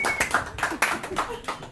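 Rowdy comedy-club crowd at Lake George clapping along in a loose rhythm, several hand claps about every quarter second, mixed with crowd noise and a little talk.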